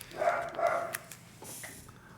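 A small dog barks indoors, two sharp barks near the start followed by fainter yips and whimpers, with no speech over it.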